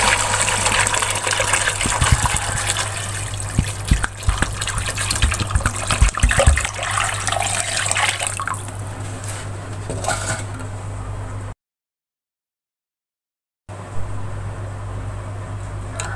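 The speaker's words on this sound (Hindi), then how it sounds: "अब इसमें हम 2 जग पानी के शामिल करेंगे।" Two jugs of water are poured into a pot of beef nihari, a loud, steady gushing pour running for several seconds and then breaking off into a short silence before a second burst of flowing water.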